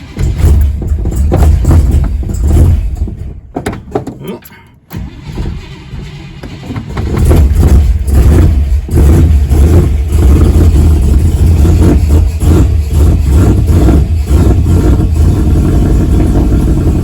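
A 1957 car engine fitted with a bigger carburetor roars loud and close, dips briefly as it stumbles, then settles back into a strong, steady rumbling run.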